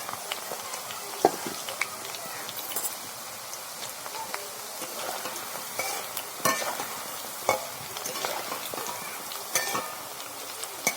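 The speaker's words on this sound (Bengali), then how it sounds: "আমার পকোড়া ভাজা রেডি" Pakoras deep-frying in a pan of hot oil give off a steady, close crackling sizzle with scattered sharp pops throughout, and no one speaks.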